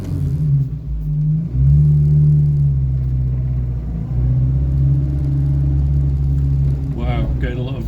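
An old classic car with loud brakes and heavy vibration drives along a road, its engine rumbling in a loud, steady drone that surges briefly near the start and stays close throughout, with a brief higher clatter at the end and no talk.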